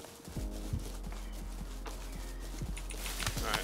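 A horse running in a video game: a quick series of hoof clip-clops over a low, steady background hum, growing busier near the end.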